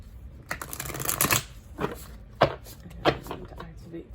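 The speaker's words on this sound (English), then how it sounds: "I will shuffle one more time." A deck of cards shuffled close by in a quiet room, several brief riffling bursts, the first longer and the later ones short, without talk.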